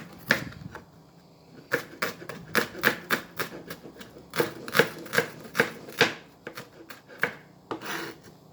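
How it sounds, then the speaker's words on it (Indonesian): Green chilies being finely shredded for pindang fish, a quick run of sharp, crisp scraping strokes in uneven bursts, close and fairly quiet. "Seperti ini ya proses menyisir cabenya"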